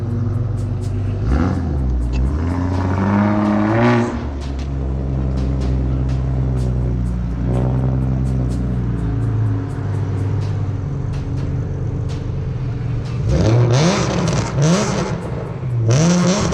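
A powerful Ford Mustang engine revving repeatedly at a car show, a loud, continuous rumble with rising and falling surges and a burst of hard revving near the end.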